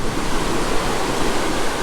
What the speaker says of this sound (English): See how the water's coming out of the bottom, swirling back up to the top?